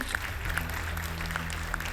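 A studio audience on the Armenian TV singing competition Two Stars keeps clapping in a short, even burst of applause, moderately loud and continuous.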